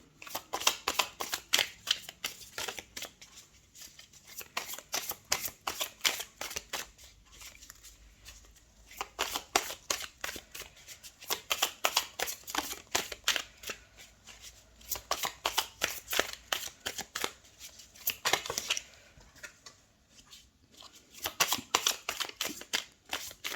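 Tarot cards are shuffled by hand in repeated bursts of rapid, crisp riffling, close and fairly quiet, with brief pauses between rounds and no talking.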